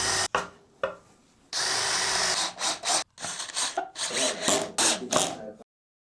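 A cheap universal bench drill press stand drives a bit into wood, loud grinding bursts starting and stopping in short runs with rattling clicks, close and alone.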